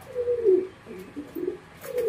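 Pigeons coo nearby in a few soft, rolling calls separated by short pauses, clear against a quiet background.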